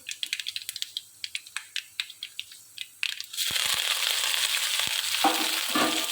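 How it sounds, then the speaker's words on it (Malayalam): Crushed spices clatter into a pan, then curry leaves and spices hit hot oil for a Kerala plantain moru curry, a sharp rattling series of drops giving way to a loud, continuous close spitting fry with a few pops. "കറിവേപ്പിലയും കൂടി ഇട്ട് നന്നായിട്ട് മൂപ്പിക്കാൻ പോവാം"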